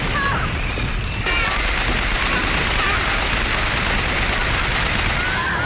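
An enemy empties a full magazine in Bioshock Infinite: a loud, dense stream of rapid automatic gunfire that runs unbroken for several seconds, with crashes and mechanical clatter mixed into the barrage.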